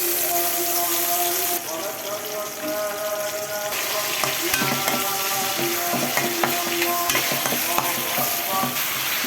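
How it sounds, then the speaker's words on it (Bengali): Onions frying in a pan for noodles, a close, continuous sizzle broken up by repeated scraping and clattering of a stirring utensil, with no talk over it. "এখন আমি এখানে পেঁয়াজ দিয়েছি,"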